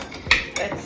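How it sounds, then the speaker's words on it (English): Fruit dropping into a blender jar for an apple mixed-fruit smoothie, two quick close clunks a moment apart with a faint rattle after. "I'm gonna add the fruits to the blender."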